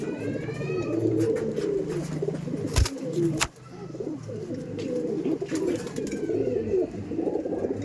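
Madrasi pigeons in a loft coo steadily in repeated low, rolling calls, close and loud, with a couple of sharp knocks partway through.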